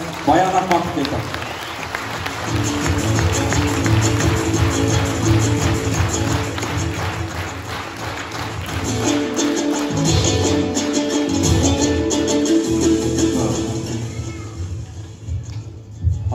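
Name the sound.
audience applause welcoming the singer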